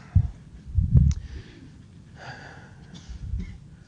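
Several short, harsh bursts of coughing, close and fairly loud, separated by brief pauses with breathy sounds in between.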